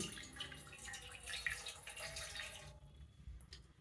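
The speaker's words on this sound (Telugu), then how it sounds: "నీళ్లు పోస్తున్నానండి" Water is poured into an idli steamer in a home kitchen, a continuous splashing pour that stops near the end, close and moderately quiet.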